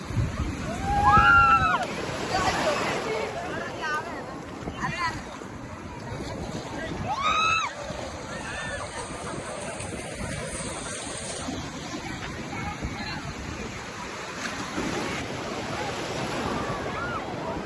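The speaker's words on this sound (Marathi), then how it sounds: "कधी येतात लई लाटा येतात" Sea waves washing onto a beach at Alibag, a steady broadband surf wash with wind noise on the microphone, with people talking and calling out over it throughout.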